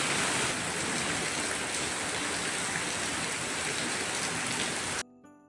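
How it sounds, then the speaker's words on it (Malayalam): Heavy rain pours steadily outside a church, a dense, loud, unbroken hiss of drops that stops abruptly near the end. "അപ്പോഴായിരുന്നു നല്ല രീതിയിൽ മഴ പെയ്തത്"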